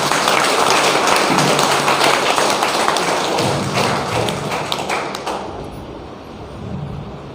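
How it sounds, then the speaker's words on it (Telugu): An audience at a meditation gathering claps warmly to welcome newcomers, steady dense applause from many hands close by that thins and fades out after about five seconds. "సో వారికి చక్కటి చప్పట్ల ద్వారా స్వాగతం పలుకుతారు."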